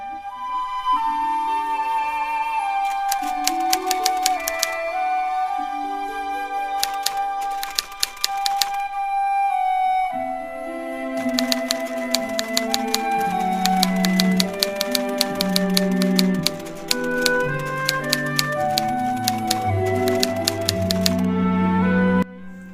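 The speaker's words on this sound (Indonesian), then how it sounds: "apakah saya bisa mengetik naskah ini sekaligus dengan perubahan-perubahannya?" A manuscript typed on a mechanical typewriter, rapid bursts of sharp key strikes in uneven runs over a continuous musical soundtrack, with a short pause partway through.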